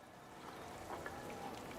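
Soft, steady rain falls in a Path of Exile 2 game scene, a faint continuous patter with a few brighter drops, heard alone.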